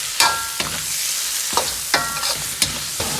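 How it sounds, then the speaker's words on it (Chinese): Goose meat is stir-fried in a wok with dark soy sauce and hoisin sauce, a loud continuous sizzle broken by sharp metallic clanks and scrapes of the spatula at irregular intervals. "把鹅肉炒出香味，"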